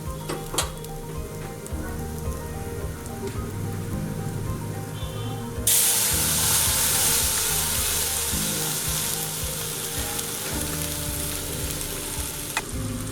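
Spice paste for a fish curry with potato and cauliflower frying in a hot pan, a steady dense sizzle that jumps louder partway through as the paste hits the oil, then keeps crackling with occasional stirring scrapes.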